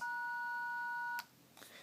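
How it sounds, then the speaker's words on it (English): A Motorola CP200 two-way radio gives a steady electronic beep tone that holds for about a second before cutting off, followed by faint noise. "When it beeps 3 times after the DC"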